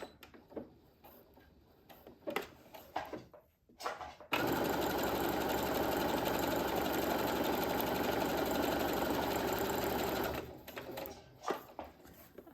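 Sewing machine running steadily at a constant pace for about six seconds while stitching the final assembly seam of a small patchwork pouch made from fabric scraps, with light handling clicks before and after.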